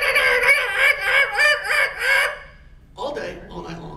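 A person imitates a guinea fowl, giving a run of harsh, rhythmic squawking calls about six in a row, loud and close, before the voice drops into ordinary talk.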